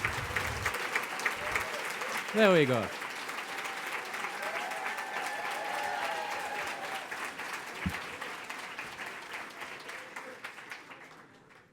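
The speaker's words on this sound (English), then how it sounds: "Cali, great applause." Audience applause for the Cali fellows standing to be recognized at a 2019 action forum welcome plenary, steady clapping across the hall that fades at the end, with a brief spoken phrase near the start.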